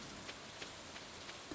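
Steady rain patters across a farm in the game Stardew Valley, a continuous soft hiss with faint periodic drops, heard alone and at an even, quiet level.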